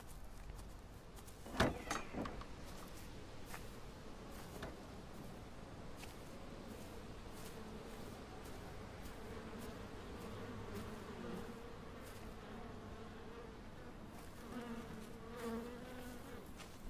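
Buzzing of flies or bees in the game Everybody's Gone to the Rapture, a steady low drone lasting throughout with a brief louder knock near the start and no talking.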